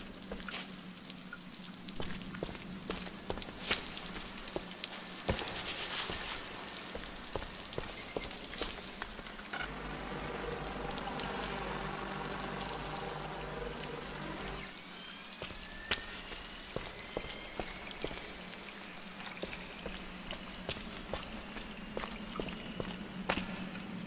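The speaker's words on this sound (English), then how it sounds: "The water's just kind of raining off of them" Water drips and patters irregularly in a large cave room in Scanner Sombre, echoing as if in a large enclosed space, with a steadier trickling stretch in the middle.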